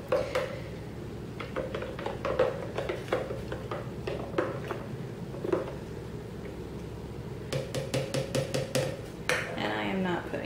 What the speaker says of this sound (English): make sure you stir him up really good, because there's going to be sediment down in the bottom